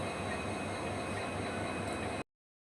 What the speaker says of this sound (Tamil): கன்னியாகுமரி ராமேஸ்வரம் ட்ரெயின் இப்போ தான் வந்துச்சு